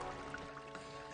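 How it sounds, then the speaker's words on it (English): Waterfall spilling down rocks into the Devil's Millhopper sinkhole in Florida, a steady, soft, continuous splash and rush heard faintly and alone over a brief moment. "The waterfall is so comfortable and settling."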